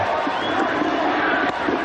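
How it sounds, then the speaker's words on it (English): Dense roar of a stadium crowd cheering at a 1992 Cricket World Cup semi-final between Pakistan and New Zealand, a steady broad wash of many voices that stays loud throughout. "Look at that crowd, the tension's enormous for the spectators."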